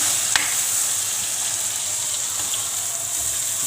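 Prawns with coriander, turmeric and fish masala sizzle loudly in a karahi, a bright, even frying hiss close by, with one sharp tap of a utensil near the start.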